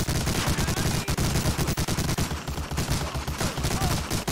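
Rapid sustained gunfire in Medal of Honor: Allied Assault, a loud, continuous stream of automatic shots with barely any gaps.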